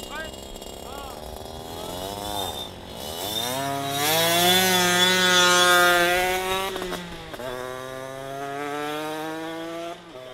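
50cc Derbi motorbike and scooter engines rev at a race start, a buzzing two-stroke whine rising and falling in pitch, loud and close, with voices talking over it.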